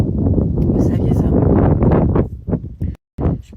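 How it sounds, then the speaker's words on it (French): Gusty wind buffets a microphone outdoors in Sardinia, heavy low rumbling rising and falling under someone speaking, with a brief drop-out near the end. "il y a du vent, vous allez rien entendre"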